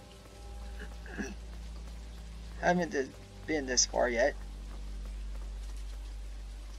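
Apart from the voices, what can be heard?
rain in the video game Vampire's Fall: Origins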